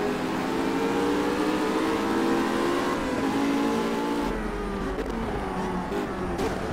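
Race car engines roar and rev loudly and continuously in the Project CARS video game at Brands Hatch, pitch rising and shifting through gear changes.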